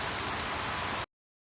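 Heavy rain pours down as a dense, even hiss, close and steady for about a second before cutting off abruptly into silence.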